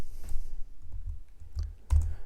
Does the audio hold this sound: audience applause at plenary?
no